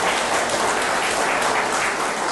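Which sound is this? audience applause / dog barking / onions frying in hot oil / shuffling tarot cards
audience applause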